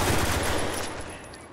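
Rapid automatic gunfire rattles in Spec Ops The Line multiplayer, a dense loud burst that fades out after about a second.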